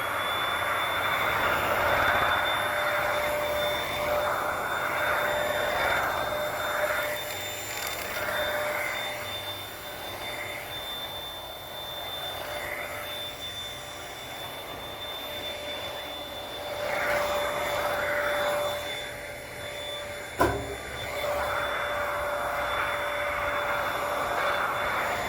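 A Dirt Devil Power Stick Lite stick vacuum cleaner runs continuously with a steady whining drone and airy rush, its pitch and loudness shifting slightly as it moves, with a sharp knock partway through.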